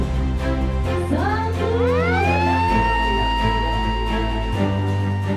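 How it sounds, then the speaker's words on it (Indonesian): Siren pressed to open a fishing port launch ceremony, wailing upward and holding a steady rising-and-falling tone over a constant loud low hum, with no talk. "Peluncuran modeling penangkapan ikan terukur ditandai penekanan sirene oleh Menteri Kelautan dan Perikanan Sakti Wahyu Trenggono"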